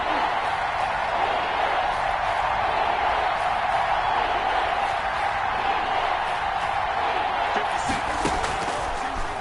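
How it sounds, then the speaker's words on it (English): Steady, dense crowd roar fills an American football video game stadium on PS4 ahead of a big third down, a continuous broad wash of cheering with no pauses and no talk. "The crowd getting into it as we come up on a big 3rd down."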